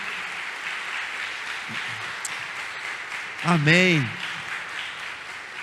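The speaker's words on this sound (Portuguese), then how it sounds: "eu queria que você, como igreja, aplaudisse o mais forte que você pudesse" A church congregation at a conference applauds in a sustained wash of crowd clapping, while one voice calls out briefly over it.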